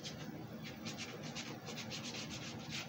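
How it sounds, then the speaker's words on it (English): Hand-sanding a carved wooden baby bear: soft, rhythmic scratchy strokes repeat closely and quietly against the wood, with no talking. "it's going to come down now to where we start to sand the baby bear"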